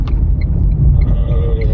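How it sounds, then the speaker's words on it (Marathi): A loud, low rumble of heavy vehicles passing close by on a road, steady engine drone with a faint squeal toward the end. "आता रस्ता वर्दळ आहे रस्त्याला, सगळे मोठ्या गाड्या"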